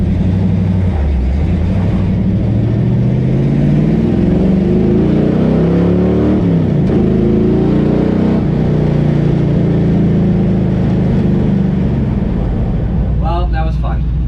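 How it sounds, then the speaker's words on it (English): A Mazda Miata drives and accelerates, its engine note rising and falling steadily and close up throughout, with a brief higher burst near the end. "Miatas are a blast to drive."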